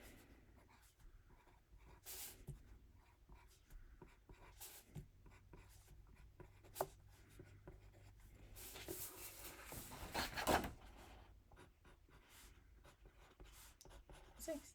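A pencil scratches numbers onto a paper grid in short, quiet strokes and scribbles, close and faint, with a soft voice talking over part of it.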